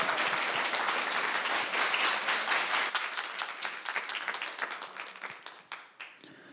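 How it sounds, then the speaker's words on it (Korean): An audience at a youth culture festival claps after a talk, with dense, lively applause from a sizable crowd that holds steady and then thins into scattered claps and fades out. "큰 박수 부탁드리겠습니다."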